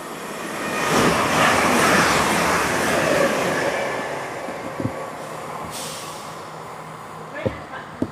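A non-stopping train roars past platform 2 at Grantham station on the East Coast Main Line, a loud sustained rush building and fading over several seconds with a few sharp clanks toward the end and a faint buzzing hum throughout.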